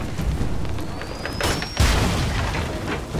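An explosion in the video game Ryse: Son of Rome, a sudden heavy boom that lands midway through rumbling battle ambience, with a faint rising whistle just before it.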